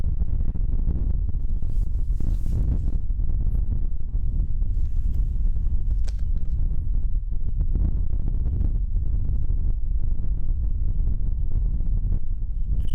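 Gusty wind buffeting a microphone on a golf course, a continuous low rumbling roar with throbbing surges, loud and close, with no voices over it.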